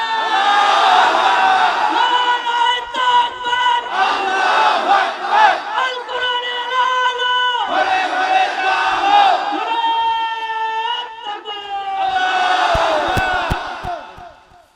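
A large crowd at a Bangladeshi Islamic conversion gathering roars back in unison to a Takbir call, several loud, sustained shouted responses in waves, with brief pauses between them.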